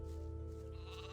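A sheep bleats in the fantasy role-playing game Gothic 2, one wavering bleat close by over a steady droning background, with no talk.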